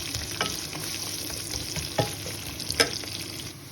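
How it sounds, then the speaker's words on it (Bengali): Onions frying until brown for chicken pulao, a steady sizzle with occasional spatula clinks against the pan, no talking. "পেঁয়াজ দিয়ে দিলাম, বাদামি কালার করে ভেজে নেব।"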